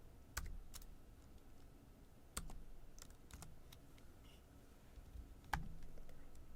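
Keys clatter on a computer keyboard as a database query is typed, scattered sharp taps with short pauses between bursts, close and fairly quiet, with no voice over them.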